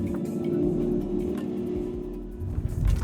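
Porsche Cayenne E-Hybrid on a mild off-road course, a steady tonal whine from the drivetrain holding under a low rumbling hum throughout, with a few rougher bumps toward the end.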